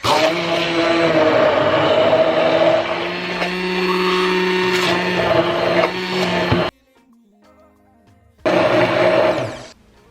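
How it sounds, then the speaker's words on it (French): A blender whirs loudly as it mixes kiwi with oat milk, a steady motor roar for several seconds that stops, falls silent, then starts again for a short final burst. "je vais mixer le tout"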